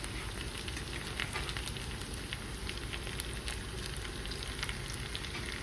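Bangalore chillies (capsicum) fry with already-browned onions in a pan, a continuous close sizzle with scattered sharp crackles and pops at a fairly low, even level.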